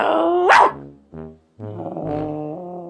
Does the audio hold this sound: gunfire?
no